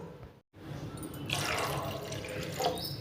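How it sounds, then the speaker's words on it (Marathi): A glass of water is poured into a pot of sautéed vegetables for a ragi soup, making a close, steady splashing rush that starts after a short gap and runs to the end. "आणखी एक ग्लास पाणी घालू"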